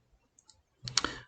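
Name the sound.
mouse click on the deploy button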